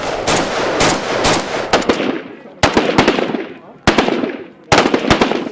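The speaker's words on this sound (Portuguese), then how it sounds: "O disparo ensurdecedor de um fuzil, que, como se não bastasse, é feito com rajadas longas" Automatic rifle firing loud, deafening long bursts of rapid shots, a sustained stream of fire followed by several shorter bursts separated by brief pauses, with echoing decay between them.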